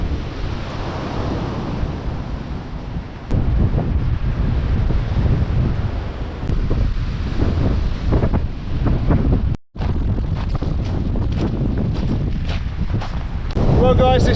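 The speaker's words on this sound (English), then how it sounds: "We have the boom of the waves over here." Waves boom onto the shore at Hayling Island under cold, wet, windy conditions, a steady roaring wash with heavy wind buffeting the microphone and surges rising and falling throughout.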